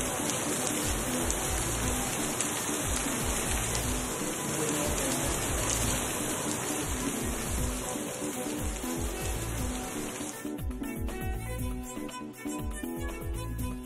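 Heavy summer rain pouring down in a steady, dense hiss of drops striking surfaces, loud and continuous throughout, shifting in tone near the end as other background sound creeps in.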